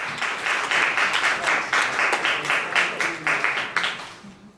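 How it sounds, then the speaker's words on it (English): Audience applause at a talk on mutual aid: a room full of clapping sustained for a few seconds, fairly close, then fading out at the end, with no voices over it. "And so another big round of applause for Marianne and Anup."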